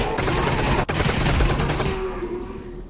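Rapid automatic SMG fire in Half-Life: Alyx, a loud dense burst of shots that runs for about two seconds with one brief gap, then trails off into echoing tail.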